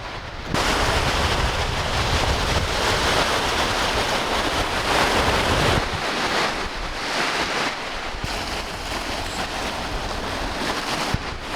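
Waves and wind at a beach in Sardinia make a steady, loud, broadband rush of surf with gusty wind noise, continuous throughout with no speech.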